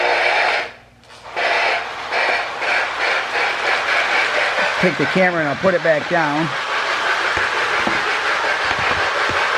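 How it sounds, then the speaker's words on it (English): A Marx Sound of Power toy train tender gives off a steady, loud buzzing rattle with rhythmic chuffing pulses and a warbling whistle-like tone in the middle, while a person speaks briefly over it. "So here's the Sound of Power tender."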